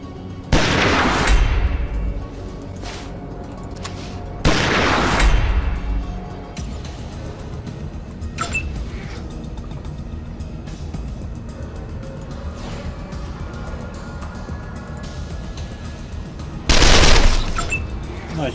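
Bursts of gunfire from the post-apocalyptic game Wasteland 2, three loud volleys spaced across the stretch with smaller single shots between them, over a constant background din.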